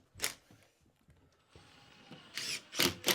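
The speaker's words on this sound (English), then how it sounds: "We'll get 4 screws in the top, will be sufficient to hold the weight of that board." A power drill drives screws into a board while a garden room is built, with a short whirr near the start and several loud close bursts toward the end among quieter handling sounds.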